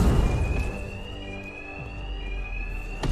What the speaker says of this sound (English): My attacks will be covered by the noise of the alarm.